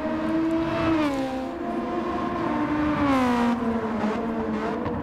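Honda Civic EK in Gran Turismo 7 at Suzuka, its engine revving high and steady with pitch sweeping down and back up through shifts, loud and continuous with no talk.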